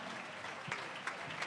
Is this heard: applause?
yes